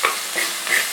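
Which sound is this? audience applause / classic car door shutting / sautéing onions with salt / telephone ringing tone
sautéing onions with salt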